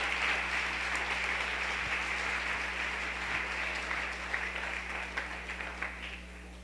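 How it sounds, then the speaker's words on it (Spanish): A church congregation applauds at a Sunday service, with steady, dense clapping from many hands that holds throughout and fades slightly toward the end, with a low electrical hum underneath. "dele un aplauso al Rey, por favor"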